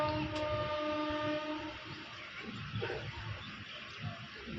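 The Lingampalli–Vijayawada Superfast Intercity Express runs toward Guntur Junction, a close, continuous rumble of wheels and carriages with steady tonal hum and rhythmic clatter throughout.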